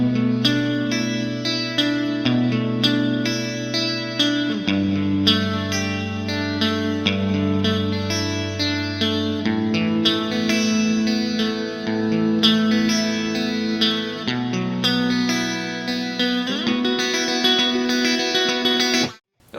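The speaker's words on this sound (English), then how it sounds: "We're going to be playing that on the guitar, so listen closely for that when it's going through." An electric guitar run through effects plays a riff, thick and sustained with chorus and echo, loud and continuous for the whole passage with no talk.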